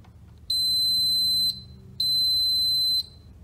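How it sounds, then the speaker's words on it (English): Two long, high-pitched electronic beeps from an Elkatherm electric radiator's digital control setting it to standby, each lasting about a second with a short gap between, loud and clear over a faint low hum. "Two beeps puts the heater back into standby mode."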